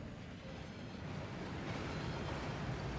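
Waterfall rushing in the Hogwarts Legacy video game, a steady broad roar of falling water with wind-like hiss, constant and moderately quiet, with no talk.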